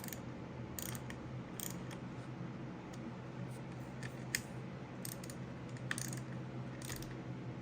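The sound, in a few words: torque wrench tightening clutch bolts on KX250F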